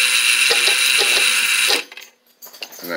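A small antenna rotator motor turns the mechanism with a close, high-pitched whir and a series of light mechanical clicks, then stops abruptly, leaving faint rattles and handling noises.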